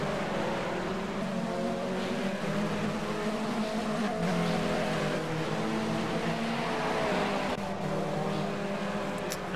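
BMW 320 Cup race cars at the Brno circuit, engines roaring continuously and loudly as they battle for position, a dense sustained drone with no pauses.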